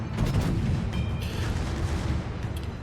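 Main battery volley from the Massachusetts, a tier 8 battleship in World of Warships, a heavy low rumbling roar that fills the whole short stretch at a steady, loud level with no gaps.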